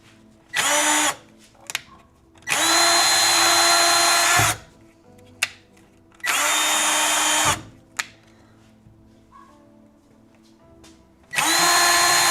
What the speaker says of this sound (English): Drill all the holes? Okay. CC wants me to drill for content. I understand. Okay. I'm drilling for content.